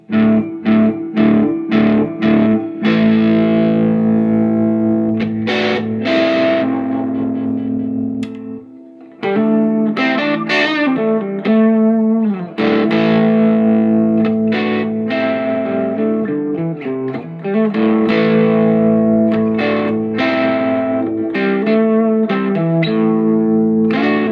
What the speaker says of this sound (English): the normal channel does get quite driven if you bring it up